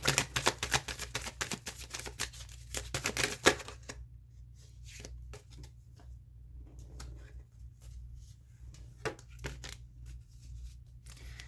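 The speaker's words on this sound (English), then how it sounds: "give me a second to shuffle this deck" Rapid riffling shuffles of a tarot card deck, quick papery clicks in a dense burst, then slower scattered taps and flicks of cards being handled, close by.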